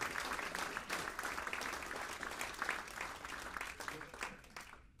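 A concert crowd applauds in memory of a jazz saxophonist, sustained dense clapping that runs for several seconds before tapering off abruptly at the end.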